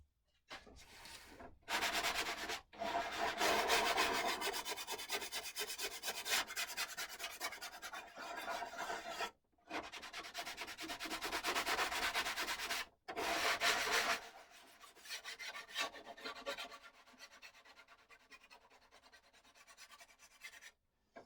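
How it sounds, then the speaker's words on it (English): Sandpaper rubs back and forth to flatten a seam, a close scratchy grinding in long bursts separated by short silent breaks, growing lighter and sparser toward the end. "I'll kind of just sand down the seam just to flatten out the seam a little"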